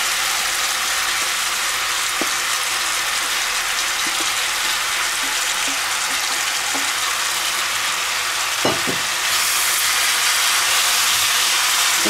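Minced meat sizzles loudly and evenly in a pan for a minced meat, pepper and zucchini dish, with a few soft clinks of stirring over the continuous frying hiss.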